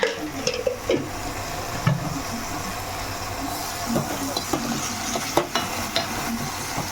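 Chopped onions with turmeric and salt frying in hot oil for gongura chicken curry, a continuous close sizzle with intermittent spoon scrapes and knocks against the pan.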